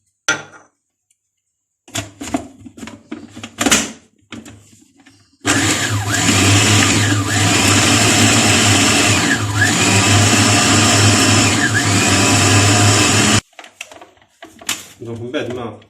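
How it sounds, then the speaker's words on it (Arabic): A kitchen blender grinds an eggplant gratin mixture with lemon pulp and a little Tabasco, roaring loud and steady for about eight seconds, with quieter handling clatter and speech before and after. "فوالا وغادي نطحنوها."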